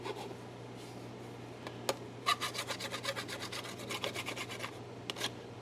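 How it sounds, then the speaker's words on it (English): A hand file rasps back and forth along the wooden edge of a rifle cheek rest, a quick run of rhythmic strokes after a couple of isolated scrapes, close and fairly quiet with no talk. "Another thing about using a file, let you get these edges straight."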